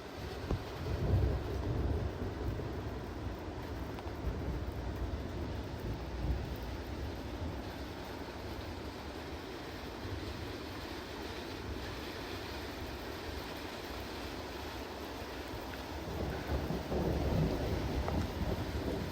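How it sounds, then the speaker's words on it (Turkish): Rain falls steadily as a soft, broad hiss with low rumbling beneath, fairly faint and continuous, with no talking, in the Ala Archa mountains near Bishkek, Kyrgyzstan. "Şu yağmura bakın."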